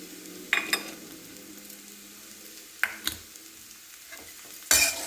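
A spoon stirs flattened rice (poha) with turmeric and salt. The mixing is mostly quiet, broken by a few sharp scrapes and clinks against the bowl.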